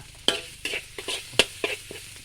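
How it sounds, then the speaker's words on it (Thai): Metal spatula scrapes and clanks against a wok in irregular strokes while food stir-fries, sizzling softly underneath. "เอาผัดในกระทะพี่น้องครับ"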